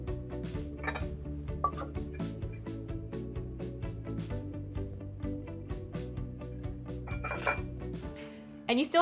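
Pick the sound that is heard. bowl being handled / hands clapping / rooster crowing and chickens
bowl being handled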